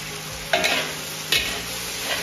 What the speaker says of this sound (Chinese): 给它翻炒均匀